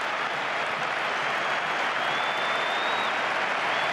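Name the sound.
applause of Real Madrid fans in Barcelona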